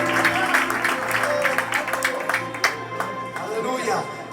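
Church congregation applauding during an anniversary service, steady clapping and crowd noise continuing under a voice speaking over it, fairly loud and close throughout.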